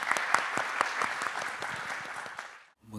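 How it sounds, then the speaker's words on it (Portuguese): An audience at a Brazilian academic event in Portugal-language setting claps for a moderator, a dense, steady round of applause that fades out near the end. "Uma salva de palmas para o nosso mediador"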